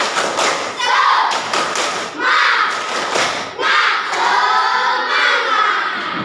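Classroom ice-breaker clapping game: a group of pupils claps in rhythmic bursts with thumps and chanted voices, loud and close throughout.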